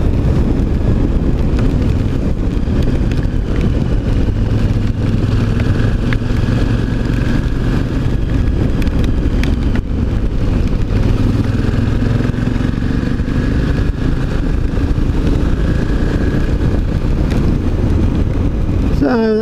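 A motorcycle engine drones steadily as the bike is ridden in damp weather, a loud, continuous rumble with buffeting wind noise throughout.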